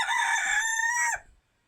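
A single loud Polish crested rooster crow, close by, rising and holding before cutting off sharply into silence.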